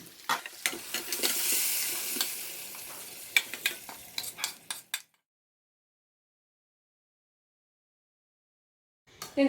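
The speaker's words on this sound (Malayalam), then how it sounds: "ഇതിപ്പം ഞാനിവിടെ നന്നായിട്ട് ഇളക്കി മിക്സ് ചെയ്തിട്ടുണ്ട്" Beef curry with gravy stirred in a steel pot, a spoon scraping and clinking in quick strokes over a soft sizzle for about five seconds, then silence before a brief clatter at the end.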